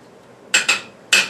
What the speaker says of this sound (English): Let me stir this.